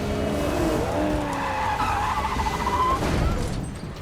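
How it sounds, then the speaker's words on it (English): Tires skid and squeal loudly through a chaotic car chase in traffic from the film The Batman (2022), with revving engines and rising screeches filling the whole stretch, ending in a brief swelling rush. "This actually felt like a real car chase, with both Penguin and Batman messing up and getting into crashes with other cars in traffic."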